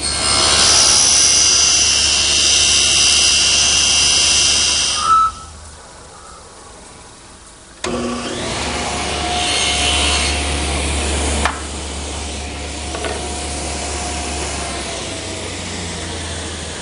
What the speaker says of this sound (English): I've just set my saw at a 40-degree angle and ripped this piece of cove through.